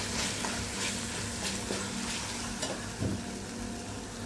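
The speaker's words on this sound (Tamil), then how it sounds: "கொஞ்சமாக எண்ணெய் ஊற்றி சோம்பு, வெங்காயம், தக்காளி, இஞ்சி பூண்டு பேஸ்ட் எல்லாம் போட்டு வதக்கிறது" Onion, tomato, fennel seeds and ginger-garlic paste sautéing in a little oil for a prawn thokku, a constant dense sizzle with occasional stirring scrapes, heard close and without speech.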